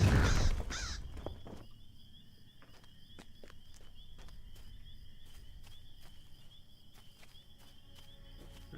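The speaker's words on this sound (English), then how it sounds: "Freaking bird." A crow in The Lord of the Rings Online gives one loud, close, harsh caw at the start, then footsteps crunch at a steady pace over a quiet bed of chirping crickets.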